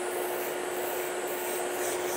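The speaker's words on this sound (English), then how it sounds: "So I'm just filing the bottom of the nail." A soft sanding band on an electric nail file grinds steadily against the underside of a poly gel nail, producing a continuous close, even whirring rasp with no pauses and no voices.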